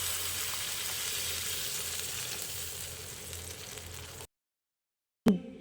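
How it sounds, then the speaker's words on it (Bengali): Potatoes fry in a pan for aloo dum with a continuous hissing sizzle that slowly softens as hot water is added and stirred in. The sound then drops to abrupt silence before a brief clattering knock. "এবার আমি এর মধ্যে দিয়ে দিচ্ছি 1 কাপ মতো গরম জল।"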